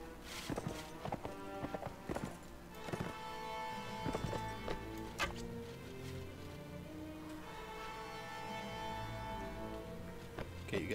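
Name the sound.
horses galloping in Mount & Blade video game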